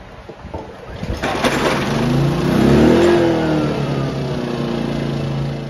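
A small portable Ryobi inverter generator engine starts up and runs steadily, its revving hum building and settling into a smooth, even drone.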